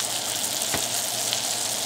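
Salmon fillet frying in butter in a pan, a steady close sizzle that holds without a break and has a brief louder crackle near the middle, no voices.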